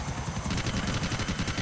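Helicopter in the video game GTA IV, its rotor chopping in a steady, rapid pulse with a loud engine whine throughout, with no talk over it.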